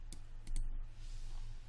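Single mouse click for a right click while modeling in 3D software, a sharp faint tick near the start followed by a couple more close clicks over a steady low hum.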